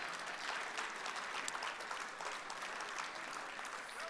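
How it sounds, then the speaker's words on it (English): Audience applause at a veterans' heroes gala fills the room with steady, dense clapping that stays even for about four seconds, moderately distant, with no talk over it. "Give yourselves a round of applause"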